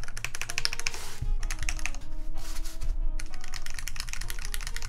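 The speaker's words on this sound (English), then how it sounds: "SA and GMK will make your keyboard sound entirely different." Steady fast typing on a custom Aegis 1800 mechanical keyboard, dense clacking keystrokes close up with brief pauses, no talking.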